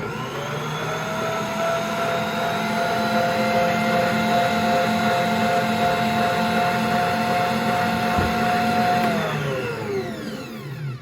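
An electric mixer works dinner roll dough, a steady loud whirring motor hum with a constant pitch that winds down near the end, with no voices over it.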